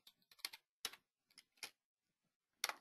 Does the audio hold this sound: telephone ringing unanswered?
no